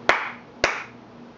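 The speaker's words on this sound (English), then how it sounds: "turn the tree off by clapping two times" Two sharp, close hand claps about half a second apart switch off a clap-controlled Christmas tree, each ringing briefly in a quiet room with a faint electrical hum.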